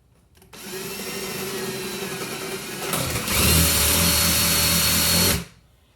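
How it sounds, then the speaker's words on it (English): A power drill bores into fine plywood inside a pinball machine cabinet, a steady close whine that deepens and grows louder partway through as the bit bites in, then stops abruptly. "I'm going to go ahead and use a drill here"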